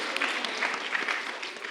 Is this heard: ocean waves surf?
no